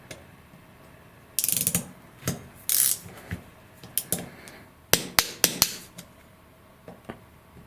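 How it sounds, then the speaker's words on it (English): Torque wrench set to 2 Nm ratcheting as it tightens disc rotor bolts on a 9velo carbon LV45 road bike wheel: close, crisp clicking bursts that come and go in a crisscross order, with sharper single clicks near the end. "I set the wrench to 2 Newton meters. And I'm just gonna kind of tighten them up in a crisscross pattern"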